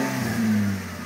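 A Toyota Land Cruiser FZJ80 engine with a new exhaust revs up close by, a loud sustained drone that climbs in pitch and then eases back, with no talking.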